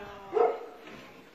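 A dog gives a single short, muffled bark or yelp during an animal rescue on a property, fairly faint and distant against a quiet background.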